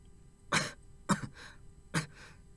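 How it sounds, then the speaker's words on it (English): Okita, a character in the video game Hakuoki, coughs in pain with three sharp, close coughs spaced unevenly, each followed by a rougher, breathy tail. "His face was tight with pain and his coughing was getting worse."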